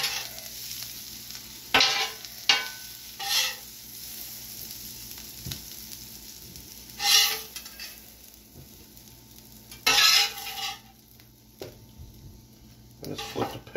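Kielbasa with peppers and onions sizzles on a Steelmade flat-top griddle, a steady close frying hiss broken by several louder bursts of sizzle as food is stirred and moved across the hot steel.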